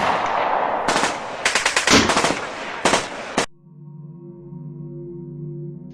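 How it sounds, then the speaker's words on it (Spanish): A rapid volley of close, loud gunshots from a pistol, several sharp cracks in quick succession over a noisy backdrop, cutting off abruptly into a low tonal hum. "y empezaron los disparos"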